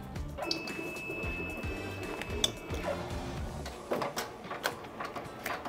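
An embroidery machine stitches a cutwork napkin, producing a quiet, rhythmic mechanical thumping and whirring with faint clicks, steady and close with no talk.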